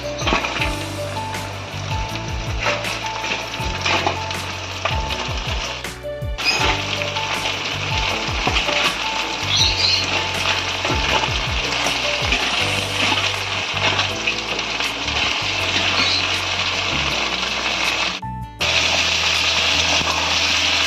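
Chopped sea crab frying with onions in a pan, a loud continuous sizzle with an underlying low rhythmic hum and a couple of brief dropouts.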